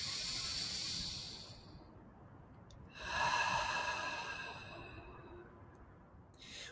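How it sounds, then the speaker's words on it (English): A single deep breath drawn in and let out slowly during a calm guided meditation, close and soft, with airy hissing that swells and then fades, and no talking over it. "Take a deep breath in."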